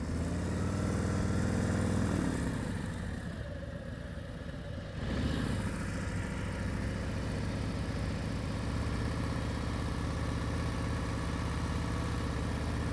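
A motorcycle engine during slow-speed riding practice in Nevada, idling and pulling steadily at low revs with a brief dip and swell in throttle, close and continuous with no talk over it.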